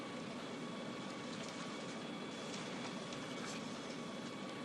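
A night passenger train with sleeping bunks rolls steadily along the rails, giving a continuous close rumble and hiss with faint rhythmic clatter and no voices.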